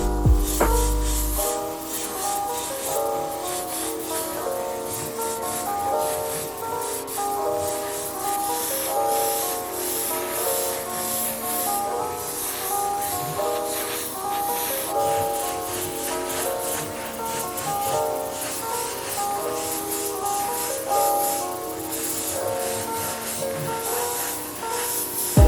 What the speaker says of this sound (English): I sprayed one base coat on the body at around 15 psi and did a relatively light coat,